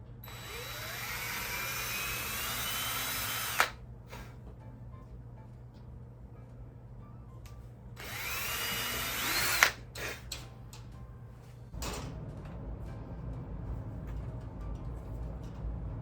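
A power drill bores holes into a touch-screen photo booth enclosure in two sustained bursts of whining, with a few shorter quieter bursts at the end.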